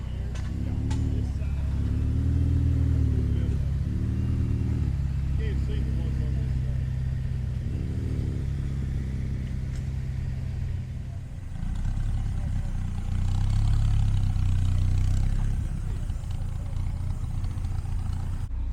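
A car engine rumbles loudly and steadily at a car show, its pitch rising and falling in revving surges, with background voices murmuring underneath.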